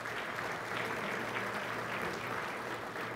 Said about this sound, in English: A round of applause for all of our sponsors today.